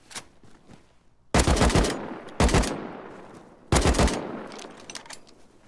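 Gunfire in the survival game Rust, a single faint early shot followed by three loud, close automatic bursts separated by brief pauses, each one trailing off into reverberant decay.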